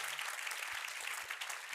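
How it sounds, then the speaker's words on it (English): Summit audience at a sustainable living event gives a round of applause, a dense, even patter of many hands clapping at a moderate distance, with no talking over it. "give them a big round of applause to start"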